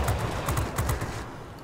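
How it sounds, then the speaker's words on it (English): Three 23mm cannons on a La-15 jet fighter in World of Warplanes fire rapid, rhythmic bursts that pound at moderate loudness over engine noise, then fade out toward the end. "These three 23mm cannons"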